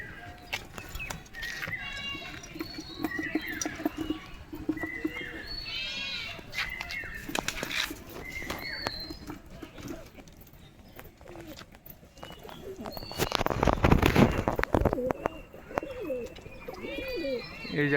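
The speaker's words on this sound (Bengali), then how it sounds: "এই যে একটা বিস্কুট পায়রা উঠছে" Pigeons coo softly in a loft, repeated low calls mixed with other bird chirps and wing flutters, while someone talks nearby throughout.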